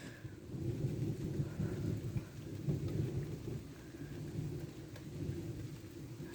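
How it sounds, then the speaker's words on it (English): Heavy rain pours steadily during a 2024 thunderstorm, with a low thunder rumble running underneath, constant and dense without gaps. "You can kind of hear the thunder."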